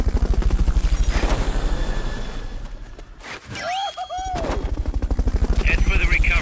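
Helicopter in the video game Metal Gear Solid: Peace Walker, a loud, close, rhythmic rotor beat that dips briefly midway under whooshing effects, then returns at full strength.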